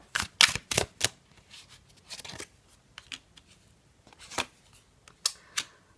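Tarot cards being shuffled by hand, a run of crisp riffling bursts and soft slides, loudest near the start and again toward the end, close up and alone in an otherwise quiet room.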